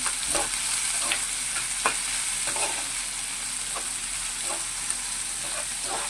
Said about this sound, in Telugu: ఇప్పుడు ఇందులోనే ఉప్పు కూడా వేసేస్తున్నామండి కొంచెం ఫ్రై చేసేస్తున్నాం కొంచెం మంచిగా